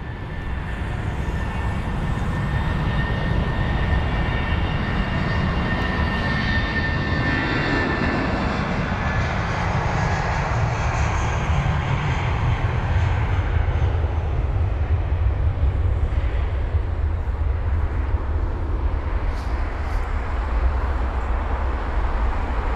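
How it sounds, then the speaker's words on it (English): Jet airliners taxiing along the taxiway toward runway 27 right at London Heathrow, a steady, loud broadband engine roar with a whining high tone that holds throughout and slowly shifts as aircraft pass. "solid 4 to 5 aircraft taxiing on the runway down to runway 27 right"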